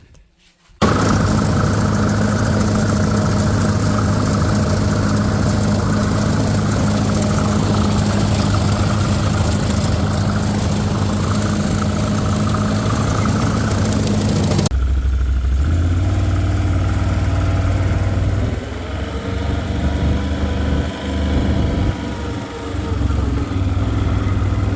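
A Ford 8N tractor engine runs at a steady, loud chugging throttle, then drops abruptly to a lower, rougher idle with uneven knocks near the end.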